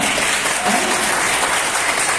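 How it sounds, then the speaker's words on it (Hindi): Loud, dense applause from a large audience at a business event, a continuous roar of clapping hands with no pauses. "आपके लाडले भरत सर के लिए जोरदार तालियां"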